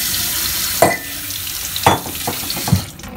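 Rice is stirred in a cooking pot with three separate scraping strokes spaced about a second apart, over a quiet background.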